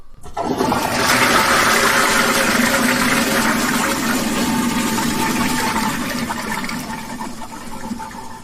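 A toilet flushes loudly and up close, a rushing gush of water that swells within the first second, holds steady, then slowly tapers as the bowl drains and refills.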